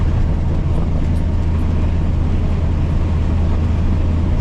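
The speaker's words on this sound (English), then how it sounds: "Starting to hear that wind here now a little bit" Steady broadband roar inside a 1977 Toyota Land Cruiser FJ40 driving at about 35 mph, with wind rush over a low engine drone, loud and continuous.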